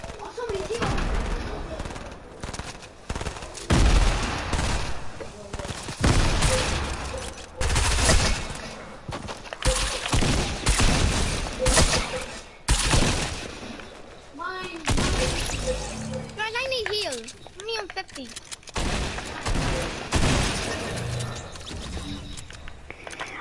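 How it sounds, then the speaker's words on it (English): Rapid gunfire bursts in the video game Fortnite crackle and pop in repeated volleys throughout, loud and close, with players chattering over the shooting. "Who's shooting?"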